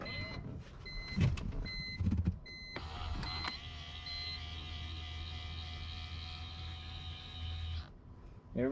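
Rear power window motor on a BMW E46 M3 whirring steadily for about five seconds with a rising mechanical whine, preceded by a few clicks and knocks and ending with a thunk as the glass stops.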